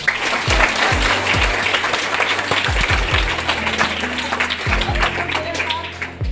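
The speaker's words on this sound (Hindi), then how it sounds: "ताली बजाओ इसके लिए।" Students at a school science activity in Jayanagar, Bihar, break into a burst of clapping and applause, a dense crowd patter lasting several seconds with a few sharper individual claps, close and fairly loud.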